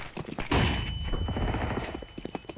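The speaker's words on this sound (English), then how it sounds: "Throwing the flashbang." A flashbang grenade bursts in a shooter game, a sharp loud bang followed by a ringing whine and scattered gunfire pops fading over a couple of seconds.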